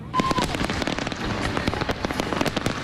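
Fireworks over San Francisco Bay on the Fourth of July, a dense continuous crackle and patter of many small bursts with frequent sharp pops, steady and fairly loud throughout.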